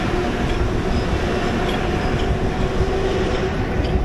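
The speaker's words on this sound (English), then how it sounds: "even with a train going by, we'll still be able to hear" A train rumbles past nearby in Farmingdale, a loud, steady wash of rolling noise and faint rail clatter that fills the whole stretch without pause.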